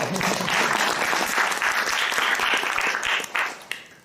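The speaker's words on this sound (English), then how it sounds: "Round of applause." A theater audience at an improvised comedy show applauds with sustained clapping that tapers off toward the end, fairly near and even throughout.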